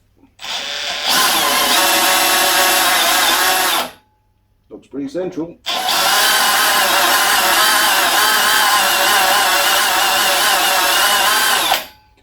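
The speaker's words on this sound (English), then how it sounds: "the speed controller seems to have broken on this drill, and it speeds up and slows down" A cordless drill with a broken speed controller whines loudly in two long runs, its pitch wavering as the speed rises and falls, with a brief spoken remark in the quiet gap between.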